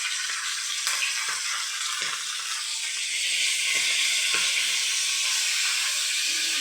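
Rohu fish head frying in hot oil over lowered heat, a steady close bubbling sizzle with fine crackling throughout, growing slightly louder midway, with no talking.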